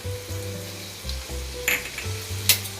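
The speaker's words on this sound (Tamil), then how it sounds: "ஆயில் ஏற்கனவே நமக்கு சூடாக இருக்கிறதுனால பூண்டு, இஞ்சி, பச்சை மிளகாய்," Garlic, ginger and green chilies hit already-hot oil for paneer schezwan noodles, a close crackling sizzle over a low hum, with a couple of sharp spatula or pan clinks standing out near the end.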